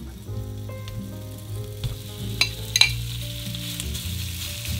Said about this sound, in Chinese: 做过农协煎鸡腿的朋友都知道，这个鸡腿肉是自己煎自己的